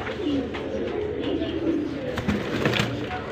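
Breeder and flying pigeons for sale in Lahore cooing softly at moderate distance, low throaty coos repeating through the clip while someone talks over them.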